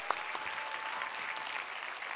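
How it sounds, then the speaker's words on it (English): A crowd applauds volunteers and supporters at the SAINTCON 2024 conference, soft, fairly distant clapping that holds steady the whole time. "Let's give them a round of applause."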